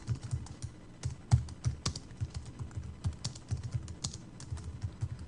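Text is typed on a computer keyboard in an uneven, steady patter of soft key clicks, close and clear, with no voices over it.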